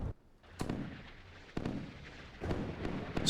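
Naval guns firing in the warship game Sea Power during a Battle of Jutland scenario: several sharp, booming reports a second or so apart, each followed by a rumbling tail, fairly distant and moderately quiet.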